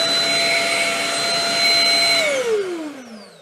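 A Shark Rocket handheld vacuum cleaner runs with a loud, close high-pitched whine and airy rush, then switches off and its motor pitch glides down as it spins to a stop.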